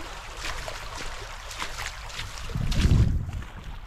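The Río Cebollón in the Sierra de Almijara flows with a steady broadband rush of water, swelling into a louder, deeper surge near the end, with no voices.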